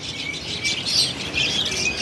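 Many exotic birds in a pet store give off a dense, continuous wash of high chirps and tweets, busy and close, with no talking.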